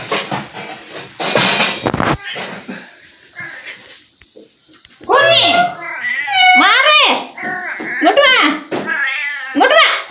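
Young kittens meowing repeatedly at home, loud close high-pitched cries in quick bursts, with people talking and clattering in the background early on.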